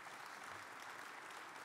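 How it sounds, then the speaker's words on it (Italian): A concert audience gives a soft, distant round of applause, a steady wash of many hands clapping for a short stretch. "penso meriti un applauso"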